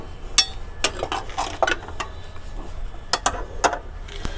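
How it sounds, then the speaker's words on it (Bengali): Steel reinforcement ring being bent to 135 degrees by hand, giving a series of sharp metallic clinks and taps at an irregular pace, close and fairly loud. "এই যে দেখুন 135 ডিগ্রি আমি মুড়ে দিচ্ছি রিংটা"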